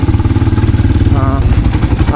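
Motorcycle engine running steadily up close, a continuous low throbbing drone with some rattling, while people talk over it outdoors.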